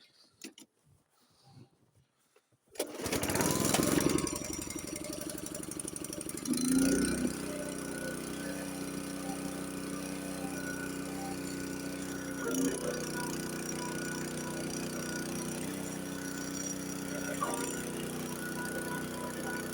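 A Honda wheeled snowblower engine starts after a quiet moment and settles into a loud, steady running drone, with brief surges in load as the machine is worked close by.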